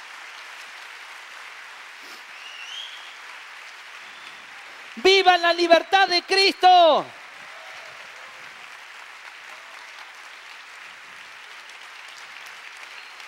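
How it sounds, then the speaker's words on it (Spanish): A church congregation applauds in a steady, broad wash that runs under and around a man's loud exclamation, with the applause continuing at moderate level on both sides of the shout. "Dale un aplauso fuerte al Señor."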